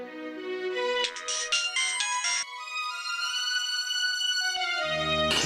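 A mobile phone ringtone plays a loud, steady electronic melody that keeps repeating with no answer and no voices.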